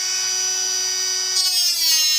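A cutting tool slices a miter into a metal tube, giving a steady high-pitched whine that holds through the cut and then turns rougher and grittier near the end, loud and close with no talking.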